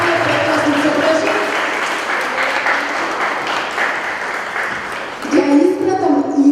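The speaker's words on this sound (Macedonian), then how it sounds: "да упатиме еден аплауз за сите дечиња кои што се погрижале да направат прекрасни цртежи" Audience applauding children's drawings at a school silent art auction, a dense steady patter of clapping that carries on for several seconds, with a voice rising over the tail of it near the end.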